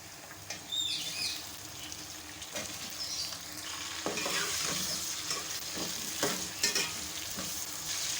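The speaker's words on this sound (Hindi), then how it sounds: "गोश्त को हमने इतना फ्राई किया है, इसका कलर चेंज हो गया है।" Beef frying in a pot with golden fried onions for shahi beef biryani: a soft, steady sizzle with scattered crackles and pops, plus occasional spoon scrapes and clinks close by, fairly quiet.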